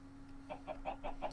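Chickens cluck in the Minecraft modpack Sky Factory 3, giving about five short, evenly spaced game-sound clucks at moderate volume with no talk.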